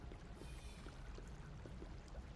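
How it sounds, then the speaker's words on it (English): Running water in the video game Grounded 2 pours in a steady, faint, hissing stream, with soft small splashes scattered through it. "Why does it sound like there's water running?"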